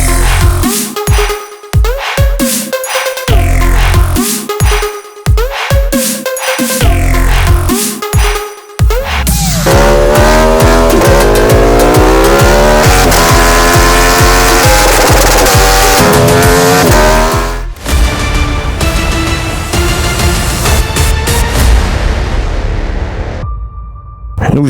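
A loud Aprilia Tuono V4 1100 RR motorcycle engine revving hard and accelerating through gears, sharp pitch rises and drops, then a long sustained high-revving pull, close up.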